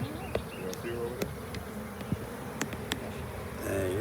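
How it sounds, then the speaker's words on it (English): Honey bees swarm at an apiary hive during a beekeeping class, a dense steady buzzing close up with occasional sharp clicks and handling noises, and a voice briefly speaking over it. "Dang, it's so many bees."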